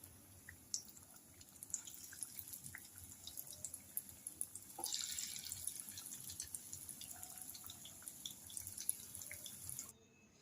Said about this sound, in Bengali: এবার গরম হয়েছে তেলটা, একে একে চপগুলো আমি দিয়ে দিচ্ছি।